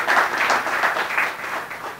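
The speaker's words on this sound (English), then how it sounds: "So let's give him a round of applause." Audience applause at a farewell gathering for a departing community figure, a dense, steady wash of clapping from a crowd that holds at even loudness for the whole stretch, with no voices over it.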